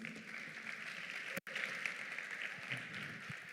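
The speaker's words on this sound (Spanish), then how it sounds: "¿Cuántos pueden dar un fuerte aplauso al Señor?" Congregation applauding in a church, a steady wash of distant clapping from many people with a brief dropout partway through.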